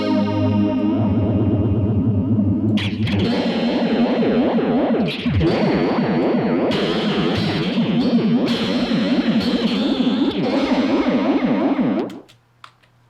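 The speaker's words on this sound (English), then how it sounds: "80A flanger based on the AADA flanger" A loud distorted guitar chord rings through a flanger effect modelled on the ADA flanger, a sweeping, swirling, jet-like whoosh, then trails off at the end; no talking.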